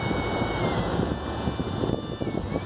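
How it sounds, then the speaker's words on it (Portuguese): A boat's outboard motor runs steadily during break-in on the Mogi river at a fishing spot, a continuous broadband drone blended with wind buffeting the microphone and splashing water, with no talk. "Trouxe o barcão aqui, ó. Tá amaciando ali o motor."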